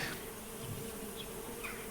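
Bees droning inside a hive box while a bellows smoker puffs smoke at the entrance, a dense, steady buzz filling the scene without speech.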